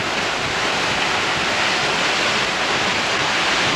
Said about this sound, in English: Look at that water flow over the road, eh?